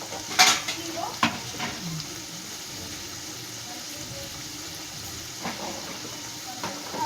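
Five-spice seeds frying in hot oil as they are stirred, with a few sharp clinks of a utensil against the pan early on and a steady low sizzle beneath.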